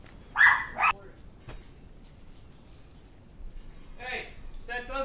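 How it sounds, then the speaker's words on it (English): A small, yippy dog lets out a few sharp, high barks and yips near the start, then quieter whimpers and more yips toward the end, close by in a quiet indoor room. "I'm dealing with a very yippy dog"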